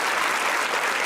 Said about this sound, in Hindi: लाला के लिए जोर से तालियां यार